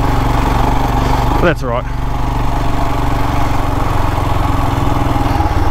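A Royal Enfield Himalayan motorcycle engine thrums loud and close while riding gravel roads, a steady low mechanical drone throughout with a brief voice over it.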